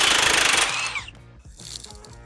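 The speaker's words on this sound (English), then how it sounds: "I think we just broke the ball joint." A ball joint on a Jeep Cherokee steering knuckle breaks loose with a sudden loud metallic crack and clatter, followed by scattered clanks and rattles of tools and parts up close.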